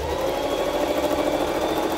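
A sewing machine runs steadily, stitching a wide 4.5 cm hem on a kitchen apron, with a continuous close whirring motor tone and no pauses.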